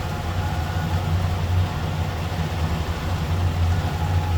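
A stock 1965 Chevrolet Chevelle Malibu convertible engine idles steadily with the hood open, a low, even rumble held throughout without talk.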